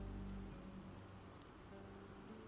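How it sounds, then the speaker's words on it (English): Steady rain falls in Project Zomboid, a dense even hiss of drops on surfaces that runs without a break under low ambient hum, with no talk. "Still raining."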